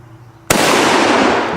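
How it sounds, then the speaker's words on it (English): A single sharp rifle shot bursts out loud and close at hanging bowling pins, followed by a sustained noisy wash of report and echo. "let's pop both of these bowling pins hanging here"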